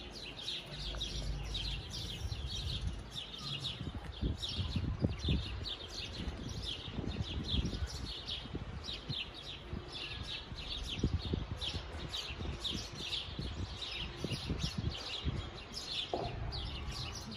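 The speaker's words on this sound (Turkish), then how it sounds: "Şimdi kuşlarımızın, yani ağaçlardaki kuşların seslerini dinletireceğim size." Many birds chirp and sing continuously in the trees of a village garden, a dense layered chorus of high tweets with some rustling below.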